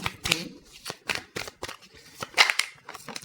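Tarot cards are shuffled and drawn by hand, a series of quick papery riffles and slaps in uneven bursts, close and fairly quiet.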